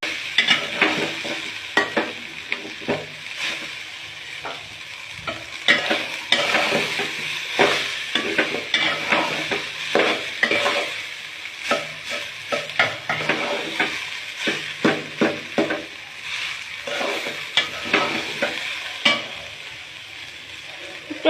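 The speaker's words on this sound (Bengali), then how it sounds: "এটা আমরা এখন নাড়ার উপর রাখবো যতক্ষণ পর্যন্ত না এটা খুব ভালোভাবে ভাজা হয়ে যায়" Leftover rice being stir-fried in a pan into bhat bhaja: a continuous close sizzle broken by frequent rhythmic scrapes and clacks of a spatula against the pan, with no talking.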